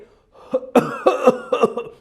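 A few sharp, harsh coughs in quick succession, close and fairly loud, each burst rough and throaty with short gaps between.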